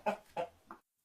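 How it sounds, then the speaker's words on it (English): A hen clucks three times in a short rhythmic sequence, close and clear, the last cluck softer, then silence. "The giant went to the cupboard and pulled out a golden hen."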